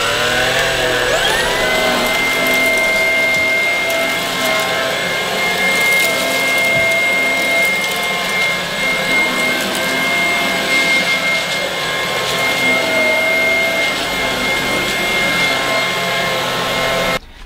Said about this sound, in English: So I'll just quickly show you the vacuum in action.